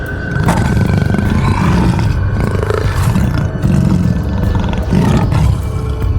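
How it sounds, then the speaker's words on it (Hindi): A cartoon tiger gives a loud, sustained roar that fills the whole stretch at close range, deep and rumbling. No one speaks over it. "डरावनी गर्जना से तोता का झुंड उड़ जाता है।"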